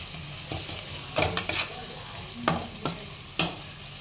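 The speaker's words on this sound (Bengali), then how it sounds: "এটাকেও আমি একটু পেঁয়াজটার সাথে ফ্রাই করে নেব।" Ginger, garlic and onion frying slowly on low heat, a steady soft sizzle close by, broken by a few sharp scrapes and taps of a stirring spoon.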